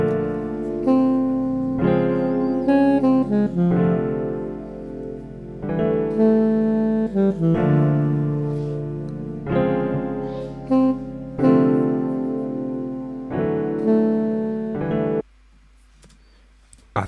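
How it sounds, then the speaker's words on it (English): A saxophone plays a simple, repeating melodic line over sustained chords and a low bass hum, phrase after phrase, then cuts off near the end. "I made a counter melody with the saxophone"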